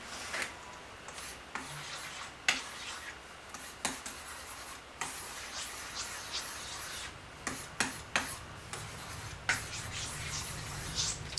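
A stylus pen glides and scratches across a screenless Wacom-style pen tablet in a quiet room, producing soft, irregular rubbing strokes with small clicks and taps between them.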